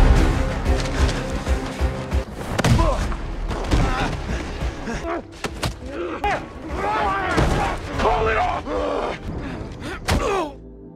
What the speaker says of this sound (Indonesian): Mendengar suara tembakan, Peter dan Ross langsung keluar dari bagasi